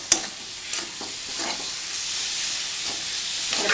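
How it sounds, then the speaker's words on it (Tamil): Ground spice paste sautés with raw banana and curry leaves in a pan, giving a continuous close hiss and sizzle broken by a few sharp spoon scrapes and stirring taps. "இந்த அரைச்ச விழுதையும் அதில் போட்டு ஒரு பரட்டி"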